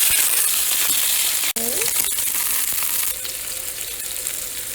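Salt, sugar and black pepper cook in a pan as sauce for Vietnamese banh xeo at a Lake Tahoe picnic, giving a steady close sizzle broken by one sharp clink, with a voice briefly in the background.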